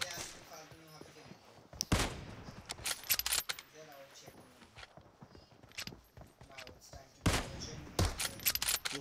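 Gunshots from a battle royale video game crack out in sharp, spaced bursts, with louder clusters near the start and toward the end, while players talk over the gameplay.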